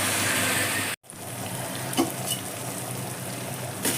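Tomatoes frying in a pan with turmeric and salt for tomato dal, a steady close sizzle with a brief dropout and a couple of small clinks, no talk.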